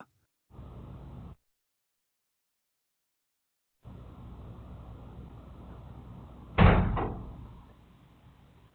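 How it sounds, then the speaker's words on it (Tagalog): A door swings shut with a single loud thud near the end, preceded by stretches of steady low hiss broken by dead silence, in a quiet room with no wind. "kusa nang nagsara ang pinto, wala namang hangin"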